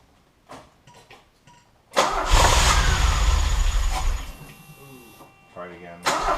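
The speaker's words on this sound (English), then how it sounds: "Now that we know it's possible to get the car fired up" A DeLorean being restored, running from fuel poured into a bucket, cranks over with a few brief attempts, then catches with a loud, rumbling burst that settles to an uneven idle and fades; a short restart comes at the end, with people talking nearby.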